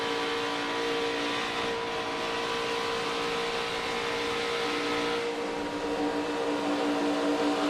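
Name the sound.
NASCAR race truck engine revving on throttle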